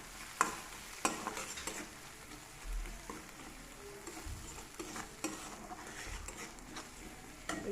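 Fish belly seasoned with salt and turmeric frying in a pan over a low gas flame, a faint steady sizzle with occasional sharp ticks and light stirring clatter, no voices.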